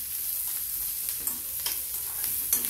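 Onion frying in oil in a home kitchen pan, a steady soft sizzle with occasional stirring scrapes, close and fairly quiet with no voices.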